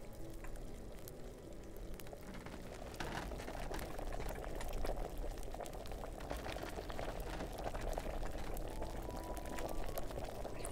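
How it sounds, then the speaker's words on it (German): Liquid in a cauldron boils steadily in Kingdom Come: Deliverance, a dense continuous bubbling hiss that grows slightly fuller partway through. "Jetzt kocht es."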